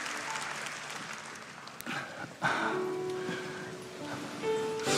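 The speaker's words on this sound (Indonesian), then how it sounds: "Kasih tepuk tangan untuk Tuhan Yesus." A church congregation claps in applause during a sermon, a steady wash of many hands at moderate distance, with a brief voice and shuffling mixed in.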